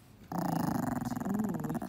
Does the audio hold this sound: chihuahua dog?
yes